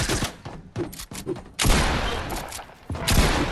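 Rapid bursts of gunfire crack out in quick succession, loud and close, with a sustained stretch of overlapping shots in the middle.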